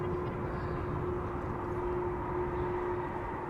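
An aircraft coming in to land at Schiphol Airport gives a steady, even engine drone with a constant whine, heard from a distance and holding level throughout.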